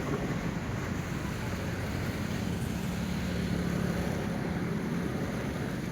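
Floodwater of the Chandrabhaga river at Pandharpur rushes past in a dense, continuous roar, broad and steady with wind buffeting the microphone throughout, and no voices.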